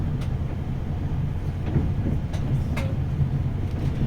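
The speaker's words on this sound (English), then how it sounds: "That was 390153 passing through Crewe." An Avanti West Coast train rumbles steadily through Crewe station, a broad low roar with faint squeals and clanks, heard at moderate distance without speech.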